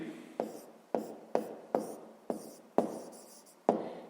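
Pen or marker writing by hand during a fifth-grade maths lesson on a double inequality, heard as regular strokes with sharp taps roughly every half second, close and steady, with no talking.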